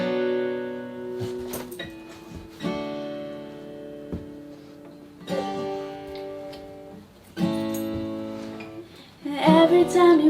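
Acoustic guitar strumming a chord progression with a single downstroke per chord, each strum ringing out and decaying before the next, clear and unaccompanied at moderate volume.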